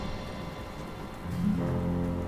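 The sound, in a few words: rain in the video game Shelter 2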